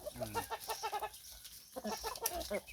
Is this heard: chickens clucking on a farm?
yes